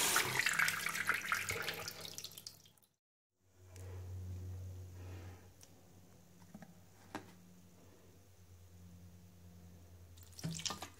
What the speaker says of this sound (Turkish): Şimdi bol suda iyice yıkayacağım.